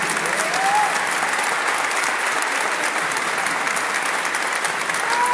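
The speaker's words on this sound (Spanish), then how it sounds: "Fuerte aplauso, que se escuche más." Congregation applauding loudly and steadily inside a basilica during a Pentecost vigil, a dense, sustained clapping that fills the space throughout, with a faint voice briefly audible over it.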